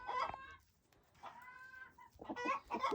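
A lone chicken roaming outdoors among blown-in garbage clucks in several short bursts with a brief lull between them, fairly close and clear.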